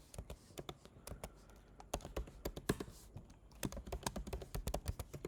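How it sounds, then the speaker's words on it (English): Quick, irregular taps and clicks of keys on a computer keyboard as a password is typed, close and fairly quiet, in short bursts with brief pauses. "So entering the password in again."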